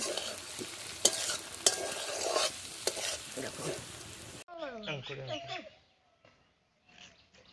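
Meat frying in a pan with potatoes and spices, a dense close sizzle with scraping stirs for about four seconds, then cutting off as a person talks over a quieter background.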